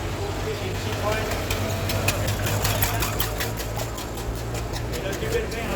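Vintage Citroën car engine running at the Le Mans classic event, a steady low mechanical hum with light ticking, heard under crowd noise and a commentator's talk.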